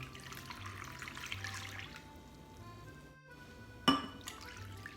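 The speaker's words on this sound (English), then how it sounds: "I'm supposed to add an inch of water in there." Water poured into a baking pan to make an inch-deep water bath for a cheesecake, a thin running trickle with a faint tonal ring, then a brief splash near the end, quiet and close.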